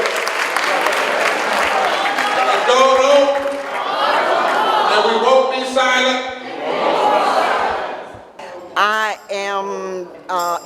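A crowd at a Poor People's Hearing in Richmond chants loudly in unison, led by a woman, with bursts of cheering and applause. A single voice speaks near the end.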